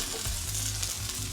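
Onions sizzling in a hot wok, a steady dense hiss of frying with faint stirring scrapes, heard alone at moderate volume.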